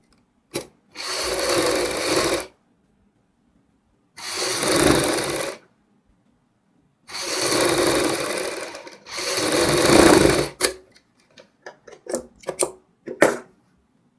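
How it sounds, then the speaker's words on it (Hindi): A sewing machine stitches the neckline of a kurti, running in four loud, steady bursts of a couple of seconds each with silent pauses between, then a few short taps at the end. "एक साइड की हमने सिलाई कंप्लीट की है। सेम इसी तरीके से हम दूसरी साइड की सिलाई भी कंप्लीट करेंगे।"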